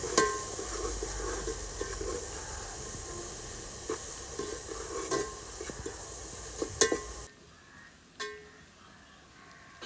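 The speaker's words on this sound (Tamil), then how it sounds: "நல்லா பொன்னிறமாக ஆகிற அளவுக்கு வதக்கிக்கலாம்" Mushroom biryani ingredients being sautéed until golden, with a steady sizzling hiss and occasional stirring scrapes in the pan, then an abrupt drop to near quiet with a couple of faint clinks.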